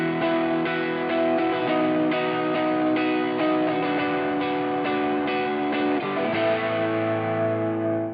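Overdriven electric guitar through an M-Vave pedal, thick distorted chords ringing continuously and loudly up close, ending on a held low chord, with no voices.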